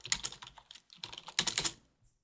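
Fingers type on a computer keyboard at close range in quick bursts of rapid clicks, with a short pause in the middle and no talking.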